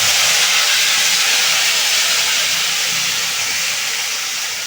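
Ground spice paste hitting hot oil in a pan while cooking a yogurt-style catla fish curry, giving a loud, steady broadband sizzle that hisses continuously throughout with no talking.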